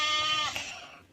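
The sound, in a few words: sheep bleating, toy sheep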